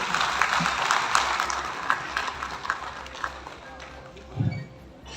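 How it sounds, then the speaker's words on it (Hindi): An audience at a religious discourse gives a sustained round of clapping in welcome, dense and rhythmic at first and then thinning out, with a low voice briefly heard near the end. "तालियों से हम अभिनंदन करते हैं।"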